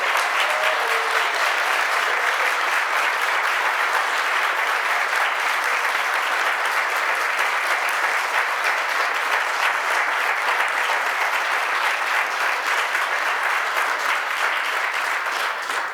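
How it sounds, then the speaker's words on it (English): Loud, sustained applause from a breakfast audience honoring police and firefighters, a dense, even roar of many hands clapping close by that holds steady without a break and carries no talk over it. "And how about a round of applause for our police and fire"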